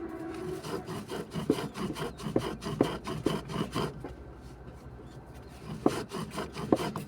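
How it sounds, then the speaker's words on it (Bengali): Quail chick starter feed is crushed into powder by hand, producing a quiet gritty rasping with repeated scraping strokes in a steady rhythm. "দেখতে পাচ্ছেন যে আমি এটা গুঁড়ো করে দিচ্ছি।"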